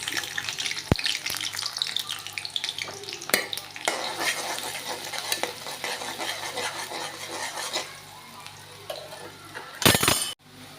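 Onions fry in a pan for a pangas fish dish with winter vegetables, a close broadband sizzle broken by spatula scrapes and clinks, easing off near the end before a brief loud clatter.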